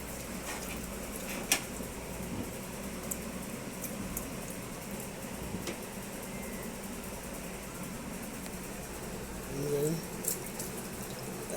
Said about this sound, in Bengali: এখন আমি কালো জামটি ধুইতেছি